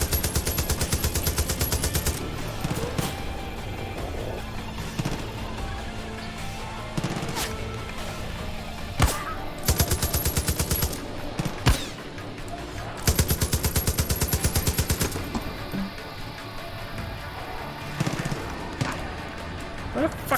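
Gunfire in the shooter game Far Cry 5: repeated bursts of rapid automatic fire alternating with single sharp shots, loud and close, with quieter gaps between volleys and a voice talking in places.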